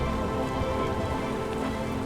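Rain falling in a steady, even wash of hiss and patter, close and continuous with no pauses.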